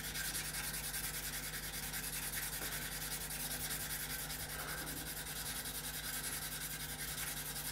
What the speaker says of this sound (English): I'm just seeing how much of this I can literally just sand out with sanding sticks